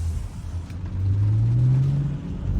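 BMW F30 335i driving with a steady in-cabin engine rumble that swells as revs climb under a pull, loud and close; distinct exhaust pops are not clearly audible.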